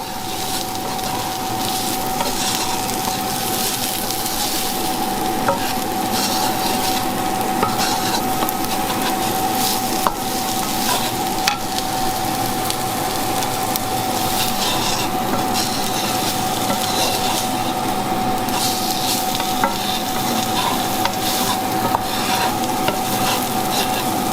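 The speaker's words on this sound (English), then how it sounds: "I've now added a tablespoon of paprika, and now I'm going to stir that in." Paprika is stirred into paella in a pan, giving a loud continuous sizzle under steady scraping and rubbing of a spoon, with no speech.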